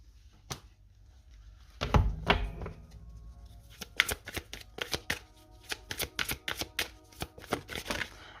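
Tarot cards being shuffled close up, first a few soft slaps, then a rapid run of crisp riffling clicks and taps, with no talking.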